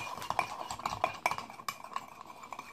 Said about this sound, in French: Et maintenant, on mélange.